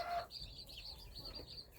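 A bantam hen with her chicks in a poultry enclosure, giving a few soft, low clucks alongside faint high peeping, quiet and close, lasting under two seconds.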